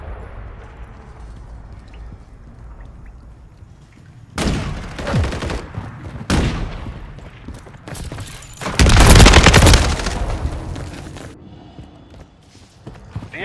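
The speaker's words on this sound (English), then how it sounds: "Taking fire!" Gunfire from a Call of Duty Modern Warfare III team deathmatch: a quiet start, then several loud bursts of rapid shots from about four seconds on, peaking in a dense, heavy volley near nine seconds before tailing off.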